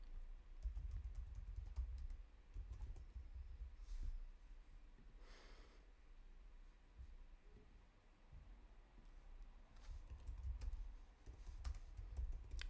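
A computer keyboard is typed on in bursts during a live business website redesign workshop, with soft muffled keystrokes and low desk thumps that pause briefly mid-stretch before picking up again.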